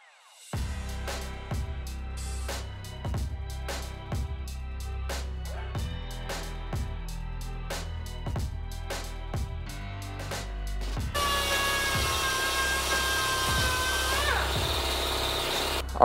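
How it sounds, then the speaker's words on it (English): Welding on a cracked Hayabusa engine case, with rhythmic clicking and ticking pulses that give way to a steady crackling hiss near the end, all fairly faint. "now we need to go ahead and weld it right here and right there"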